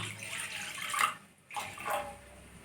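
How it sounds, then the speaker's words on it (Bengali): Water is poured into a wok in two short splashing gushes, close by, separated by a brief pause. "কড়াইয়ের মধ্যে আমি একটু জল দিয়ে দেবো আগে"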